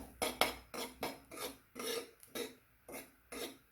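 Whole spices with poppy seeds (black pepper, cloves, nutmeg, stone flower, tirphal) dry-roasted in a pan for a Goan mushroom xacuti, giving a steady series of dry raspy scraping strokes, about eight in a rhythmic pattern, close and alone.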